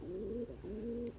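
A pet pigeon or dove gives a soft, low two-part coo, repeated twice in quick succession, close and quiet indoors.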